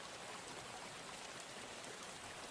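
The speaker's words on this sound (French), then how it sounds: "le son de la pluie qui tombe sans discontinuer" Steady rain falls without pause in a misty forest, a soft, even hiss that stays faint and constant throughout, with no voices.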